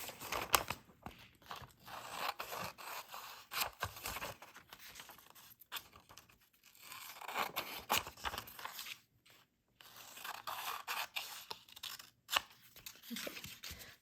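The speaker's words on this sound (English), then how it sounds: "take my scissors and cut that out around the cardstock" Scissors snipping around cardstock for a rubber-stamped journal tag, a quiet close series of irregular cuts and paper rustles with brief pauses between strokes.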